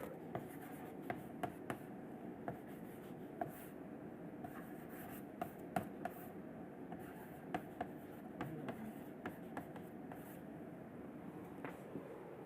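Chalk or marker strokes on a lecture board come as faint, intermittent taps and short scratches, spaced irregularly over a quiet room with no talking.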